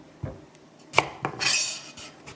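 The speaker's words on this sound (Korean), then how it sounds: "콜라비를 썰어 보겠습니다" A knife cuts through firm kohlrabi on a board in a home kitchen, a few quiet, sharp knocks followed by a brief crisp scraping slice, close and isolated.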